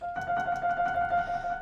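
A short orchestral phrase from a horror-themed opera's blood motif, with a sustained high tone and soft pulsing accents repeating underneath, steady and moderately loud, no voices.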